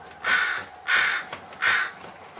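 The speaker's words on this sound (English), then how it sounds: "Oh, crow, crow, crow, crow." A crow caws three times in a backyard, each caw loud, harsh and close, evenly spaced about half a second apart with quiet gaps between.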